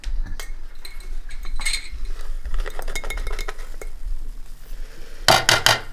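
Tablespoons of protein flour are spooned into a batter mix, with close metallic clinks and scrapes of a spoon against a bowl, scattered light taps and a quick burst of clattering near the end.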